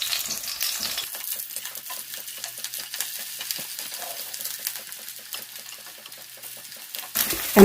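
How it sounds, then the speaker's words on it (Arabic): Eggplant fries in a small amount of oil in a pan, giving a steady close sizzle and crackle throughout, with a louder clatter at the very end. "انا هعمله على الطاسه في يعني شويه زيت صغيرين مش كتار قوي"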